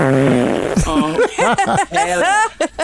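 A loud, buzzy fart rings out during a podcast conversation, followed by quick voiced bursts as people react.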